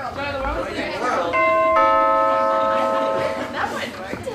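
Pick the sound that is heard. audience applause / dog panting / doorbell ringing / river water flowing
doorbell ringing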